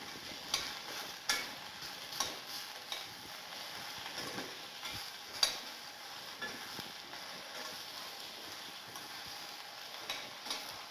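Food shallow frying in a pan on low heat while being stirred, a steady soft sizzle with periodic scraping strokes of the utensil against the pan, close and continuous with no talking.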